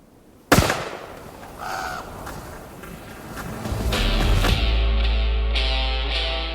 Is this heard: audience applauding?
no